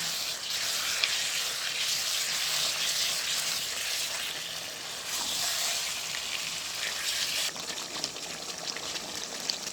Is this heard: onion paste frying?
yes